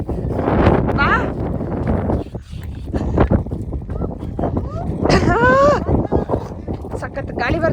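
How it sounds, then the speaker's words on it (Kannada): Strong wind on a hill at Mandalpatti buffets the microphone in loud, gusty roars. People talk and call out over and between the gusts. "ಸಖತ್ ಗಾಳಿ ಬರ್ತಿದೆ."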